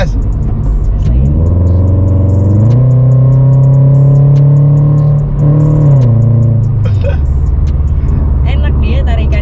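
Toyota 86 accelerating hard at night, engine note rising through the revs, dipping at a shift and climbing again, loud and close from inside the car, with people talking over it.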